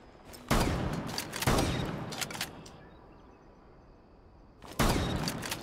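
Shotgun blasts in the tactical shooter Rainbow Six Siege: a handful of heavy, booming shots spaced a second or more apart, each with a short decaying tail over quiet background.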